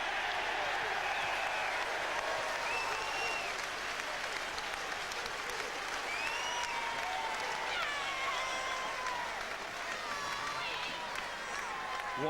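A rugby crowd at Gloucester versus Newcastle breaks into sustained applause and cheering, a dense wash of clapping that carries on evenly for over ten seconds with scattered shouts and whistles above it.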